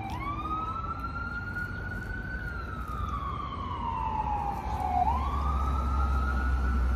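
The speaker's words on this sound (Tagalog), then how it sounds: "Ambulansya." An ambulance siren wails steadily, its tone sweeping slowly up and down, moderately loud over a low rumble of traffic.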